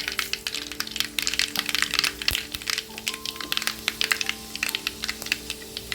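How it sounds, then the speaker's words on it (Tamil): Mustard seeds splutter and crackle in hot oil while tempering for a bitter gourd thokku, a steady stream of sharp little pops over a faint frying sizzle. "கடுகு ஊறிட்டு கடுகு ஒடிச்சு வெந்தயத்தையும் சேர்த்துக்கலாம்."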